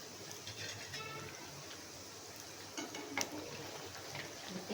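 Farali dahi vada frying in groundnut oil while being stirred gives a soft, low sizzle, with faint scraping and a few light clinks of the spoon against the pan.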